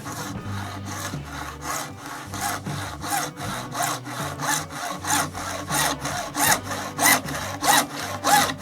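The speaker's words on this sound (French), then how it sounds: "Donc on scie toujours vers l'avant puisque les lames sont orientées dans ce sens là." A hand saw cuts through a wooden support for a cartridge holder in steady forward strokes, a rhythmic rasping that repeats about twice per second and grows louder toward the end, close and without speech.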